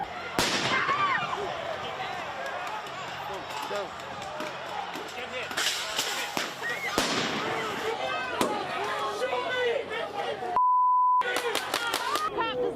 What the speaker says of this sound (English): There are people throwing fireworks and who knows what else.